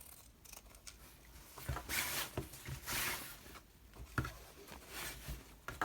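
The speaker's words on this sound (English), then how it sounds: "So I trim it all the way around the edge with the pinking shears." Pinking shears trimming around the edges of embroidery fabric in a hoop, repeated crisp snipping cuts close by in an uneven rhythm, quiet and with no talking.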